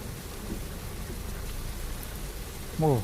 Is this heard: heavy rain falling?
yes